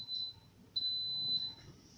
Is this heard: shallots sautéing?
no